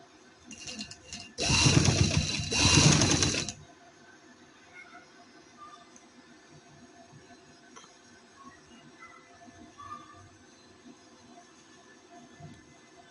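Sewing machine stitching fabric in a home tailoring setup, a loud rapid whirring burst of about two seconds, followed by quiet room tone.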